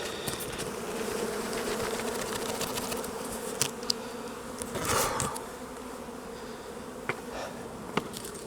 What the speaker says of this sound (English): So I'm just going to shake the bees here.